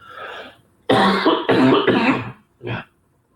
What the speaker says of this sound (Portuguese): No intervalo eu vou tomar um xarope para diminuir essa tosse.